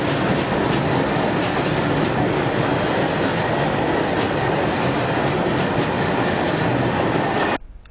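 A train rolls steadily through a railway crossing near a station, a loud continuous rumble with rhythmic wheel clatter for several seconds before cutting off abruptly near the end.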